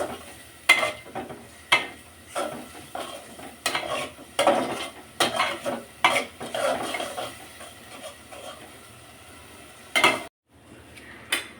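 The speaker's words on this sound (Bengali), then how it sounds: "আর এই তো আমার মশলাগুলো কষানো শেষ দেখেন" Spices being stirred and fried in a pan while cooking a bottle gourd curry with prawns: repeated scraping strokes of a spoon against metal, with soft sizzling between them, close and steady, ending in a brief pause.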